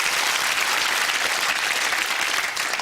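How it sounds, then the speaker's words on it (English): A studio audience at a UK TV game show applauds a contestant, a dense, steady burst of clapping from many hands that holds at full strength for a few seconds. "Round of applause for Pat"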